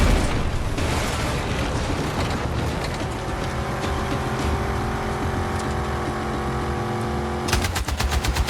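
Loud, dense blast in Battlefield 6 combat, with a continuous roar of rumble and rattling gunfire throughout and a sharp crackling burst near the end.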